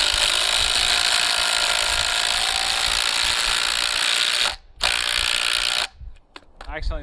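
Ridgid Octane and Makita quick shift impact drivers hammer leg bolts side by side, a loud continuous rattling impact whine for several seconds that stops briefly, resumes, then cuts off abruptly near the end.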